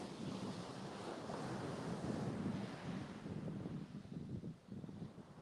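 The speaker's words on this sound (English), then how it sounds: "You probably are hearing the surf." Ocean surf rolls and breaks steadily on Panama City beach in near-calm air, a continuous broad wash of waves with gentle swells in loudness.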